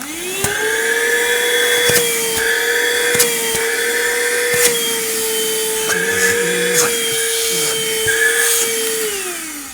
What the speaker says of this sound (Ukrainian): Давайте послухаємо, як працює, подивимось, як, яка потужність у даного пилососу.